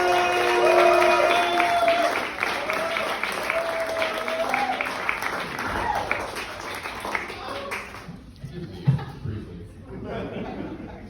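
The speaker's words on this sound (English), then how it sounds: "put your hands together. Make some noise for Mr. Ben Mumford-Zisk" A stand-up comedy audience in Ithaca claps and applauds loudly for several seconds as a comedian is introduced, with scattered cheers and chatter, then the clapping fades to a few lingering claps.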